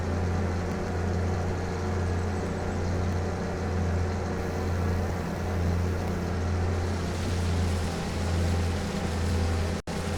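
A tractor engine drones steadily in Farming Simulator 25, a low continuous rumble with a constant hum and no talk over it.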